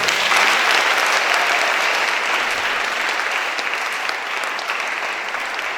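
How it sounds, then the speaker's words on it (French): A church congregation bursts into loud, sustained applause and acclaim during a sermon on the Virgin Mary, a dense wash of many clapping hands that holds steady and fades only slightly over several seconds. "Est-ce qu'on peut acclamer cette parole?"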